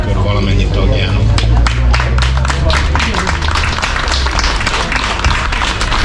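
Audience at a Gyál Székely circle gathering applauding the members, a dense burst of clapping from a crowd sustained over several seconds alongside background chatter.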